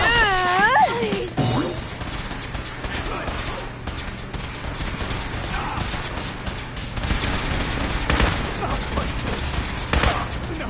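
Sustained gunfire in Fallout 4 crackles loudly throughout a combat scene, mixed with shouting voices and other battle noise, including a rising whine near the start.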